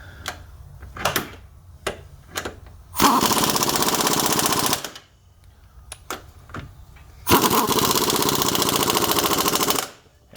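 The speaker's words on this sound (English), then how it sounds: "tighten down these nuts, and of course in this case it's a 14 millimeter. Go ahead and run them down." A power tool runs down 14 mm nuts on a complete strut assembly in two long, loud rattling bursts, with short clicks and taps between them.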